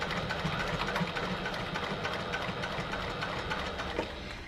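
A sewing machine stitches a fabric tote bag seam near the handle, running slowly with a steady, fast mechanical whirring and needle chatter, close and fairly quiet, with no talking over it.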